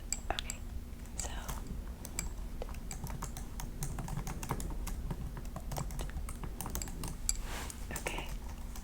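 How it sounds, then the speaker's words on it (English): Close, steady keystrokes on a computer keyboard tap out an irregular patter in a quiet, soft-spoken setting, with faint low murmuring in the background. "I'm gonna type."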